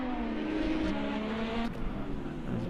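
IndyCar race car at Long Beach in Project Cars 2, its engine droning steadily with a sustained pitch that shifts slightly as it goes past, set against a continuous bed of other racing engine noise.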